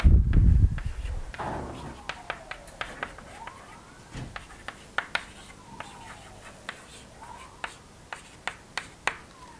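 Chalk tapping and scratching on a board during a mathematics lecture, a string of short, sharp clicks at irregular intervals with faint scraping strokes in between, following a brief low thump at the start.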